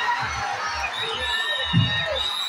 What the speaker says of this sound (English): the cheer is good